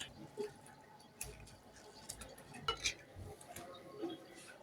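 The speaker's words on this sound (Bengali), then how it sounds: "ভালো করে ফেটে নেব।" Cauliflower cutlet mixture is beaten in a bowl in a home kitchen, giving faint, scattered clinks and soft scraping from a utensil in a quiet room.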